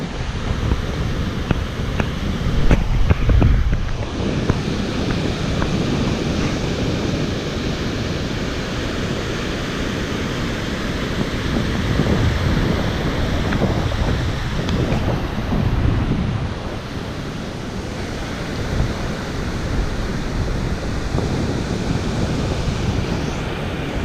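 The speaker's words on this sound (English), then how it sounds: "The tide's coming in." Ocean surf on an incoming tide at a beach where sea gulls are fed, a continuous broad wash of waves with gentle swells, mixed with heavy wind buffeting the microphone and no speech.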